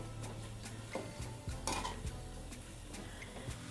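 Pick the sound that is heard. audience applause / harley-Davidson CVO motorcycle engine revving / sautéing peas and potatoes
sautéing peas and potatoes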